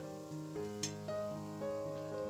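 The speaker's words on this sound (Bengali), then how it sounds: "এবার বসিয়েছি হচ্ছে গাজর ভাজা," Carrots frying in a pan in a home kitchen, a soft, steady sizzle heard close with a brief scrape or clink partway through, fairly quiet overall.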